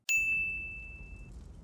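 A single bright ding of a small bell, struck once and ringing out with a clear sustained tone that slowly fades over a low background rumble.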